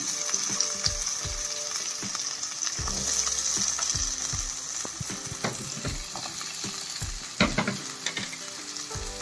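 Potatoes, carrot, capsicum and beans frying in a pan for masala upma, a steady close sizzle with repeated scraping stirs and clacks of a spatula throughout.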